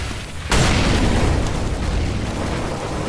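A grenade detonates in the online shooter CS:GO, a sudden loud broadband boom that lingers as a rumbling wash of noise for a few seconds, with no voices over it.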